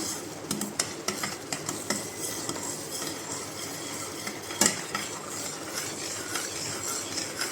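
Suji barfi cooks with sugar syrup in a pan over a low gas flame, a spoon scraping and stirring in a steady, uneven rhythm over a soft constant sizzle, close up and without speech.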